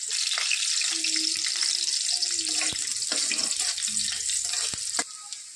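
Washed dill greens drop into hot oil with garlic and green chilies and sizzle steadily alongside running tap water, with scattered clinks and stirring sounds. A voice talks briefly.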